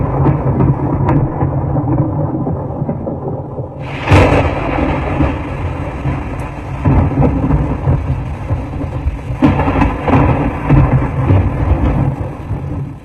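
A powerful evening thunderstorm in Brisbane with heavy lightning, loud rolling thunder rumbling over steady rain, with sharper crackling bursts partway through and again near the end, and no voices.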